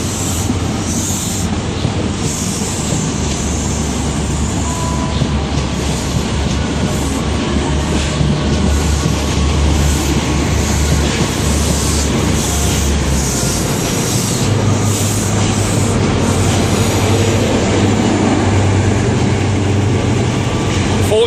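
A British Rail Class 43 HST passes through Exeter St David's station in the late evening, with power car 43144 leading and 43170 at the rear. A steady, loud rumble of engines and wheels runs throughout.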